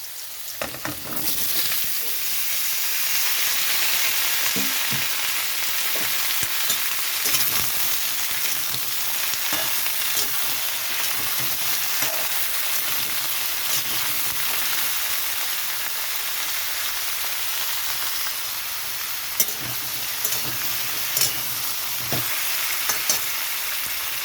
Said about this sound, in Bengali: এখানে দিয়ে দিচ্ছি আলু আর কুমড়ো